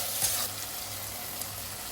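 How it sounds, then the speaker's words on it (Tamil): Ginger garlic paste sautéing in a pan for veg pulao gives a continuous close hiss of frying for two seconds, with a couple of faint stirring scrapes near the start and middle and no voices. "இப்போ இஞ்சி பூண்டோட பச்சை வாசம் போற அளவுக்கு நல்லா வதக்கிக்கலாம்."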